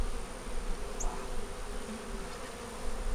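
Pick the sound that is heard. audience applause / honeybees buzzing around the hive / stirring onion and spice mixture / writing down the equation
honeybees buzzing around the hive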